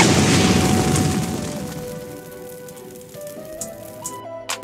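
Fiery explosion from the Hell's Core flame attack of the Flame fruit in Roblox Blox Fruits, a loud roaring boom that fades into crackling, rain-like patter with a few small pops at the end.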